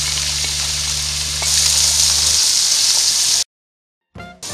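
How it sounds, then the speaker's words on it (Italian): Diced zucchini browning in a pan sizzle loudly and steadily under a low hum, then the sound cuts to silence before a short burst of sizzling returns. "circa 350 grammi di zucchine tagliate a dadini, che faccio poi rosolare"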